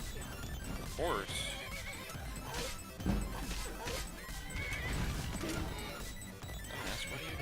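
A horse in the video game Skyrim whinnies and neighs in short bursts, with a crash and thudding hooves mixed in among game effects, while someone talks over it.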